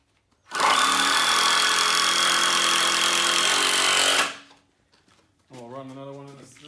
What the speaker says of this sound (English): And if you haven't used these impact drills before, they're the way to go.